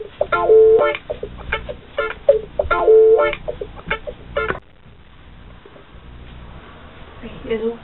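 Telephone keypad tones as a number is dialed, a series of short evenly spaced beeps in two bursts, fairly loud and close, followed by quieter background noise.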